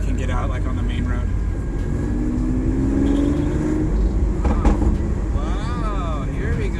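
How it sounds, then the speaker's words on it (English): A loud, deep Lamborghini Aventador SVJ V12 exhaust rumbles continuously at close range, rising and falling with throttle, while people talk over it. "Lambo has its own distinct exhaust sound."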